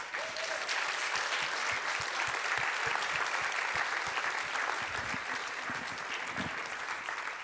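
Steady, sustained applause from an audience at a closing awards ceremony as the mentor is invited onto the stage, filling the whole stretch without a break.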